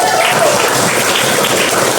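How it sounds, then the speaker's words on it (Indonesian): A primary school class claps hands together, a dense, even patter of many small claps filling the room for about two seconds. "boleh tepuk tangan dulu"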